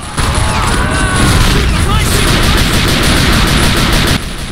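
A grenade blast in the World War II strategy game Faces of War, fought on Walcheren Isle, bursts amid constant battlefield noise and gunfire, with a loud, sustained roar that stays dense for about four seconds before cutting off.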